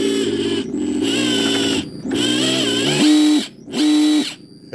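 An ESS dual engine sound simulator on a TRX4 RC truck plays synthetic engine tones that rise and fall through several loud revs with brief gaps between them, close and alone without talk.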